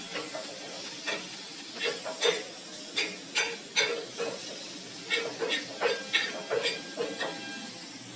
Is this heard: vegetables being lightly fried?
yes